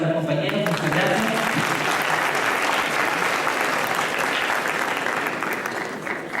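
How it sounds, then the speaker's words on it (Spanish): At an international education congress lecture, an audience breaks into applause for colleagues, a broad steady clapping that starts right over a brief bit of speech and stays loud and even throughout. "un aplauso para los compañeros"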